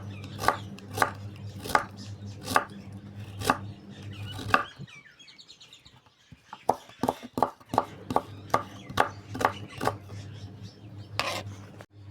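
Carrots for Uzbek plov are chopped on a board with a knife in a quick, steady rhythm of close, crisp thuds. The chopping pauses briefly midway, then starts again, with faint bird chirps in the background.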